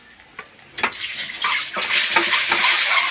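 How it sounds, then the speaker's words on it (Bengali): Whole eggs drop one after another into hot oil seasoned with turmeric, bursting into a bright, steady sizzle that crackles and builds after a few soft splashes. "এখন আমি ডিমটা ভাজা করে নেবো এই যে সব গোটা ডিমগুলো ভেজে নেবো"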